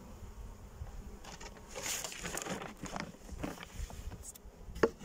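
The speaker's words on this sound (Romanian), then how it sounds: "La toate familiile de albine." Honey bees buzzing around an apiary of roughly a hundred hives, a soft continuous drone with individual insects swelling past close by, outdoors.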